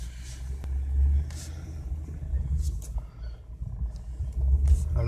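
A 2003 Ford Crown Victoria V8 idling and creeping as it is turned around outside a shop, a low, steady rumble that swells slightly a couple of times, close by, with a few faint higher clicks and no speech.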